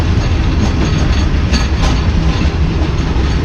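A Tezgam passenger train running close alongside a station platform between Multan and Lahore, a loud continuous roar of wheels and coaches with faint clickety-clack and occasional squeals, very near and heard alone.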